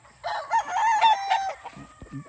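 A ten-month-old pure Boston Roundhead rooster crows once, a loud, close, drawn-out call lasting over a second, followed by a couple of soft clucks.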